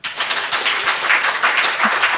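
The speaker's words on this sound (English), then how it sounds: "let's give those guys a round of applause" A church congregation gives a round of applause after a closing worship song, steady dense clapping that holds at an even level for a couple of seconds, close and lively, with no talk over it.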